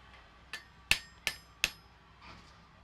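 Hammer strikes on metal against a hard anvil in a smithy, four sharp ringing blows in quick succession with a softer first tap, close and alone in a quiet room.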